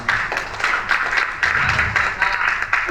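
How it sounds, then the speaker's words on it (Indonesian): An audience at a preaching-training session claps in uneven, pulsing bursts of moderate loudness, with faint voices underneath. "Tepuk tangan dong untuk yang salah."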